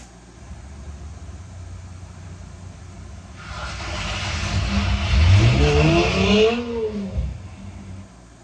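A car engine builds from a low rumble into a loud rev that climbs and falls, then fades out over steady background noise.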